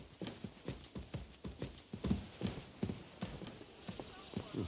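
Horse hooves clip-clopping at a steady walking pace in the medieval video game Kingdom Come: Deliverance II, evenly spaced, crisp thuds close by, moderately loud and alone for several seconds.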